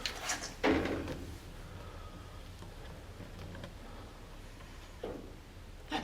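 A door swings open or shut in a reportedly haunted building, giving a dull knock followed by a quiet creaking drift and a second faint thud later, with no voices.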